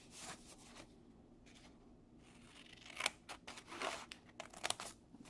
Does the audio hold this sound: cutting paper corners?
yes